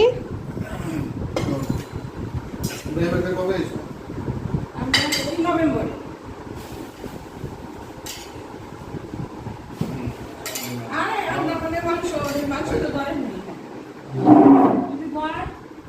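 Dishes and cutlery clink intermittently as people sit down to an evening meal, light clatter running under steady conversation and voices throughout, with a louder burst near the end.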